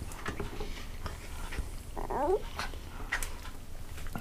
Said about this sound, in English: Dog wants some, you know that.